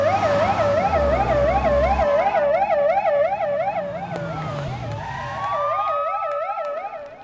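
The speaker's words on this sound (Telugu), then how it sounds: "ఈవిడ అంబులెన్స్ పిలవండి" An ambulance siren wails in a rapid, loud, close up-and-down warble over a low vehicle rumble, fading briefly before swelling again.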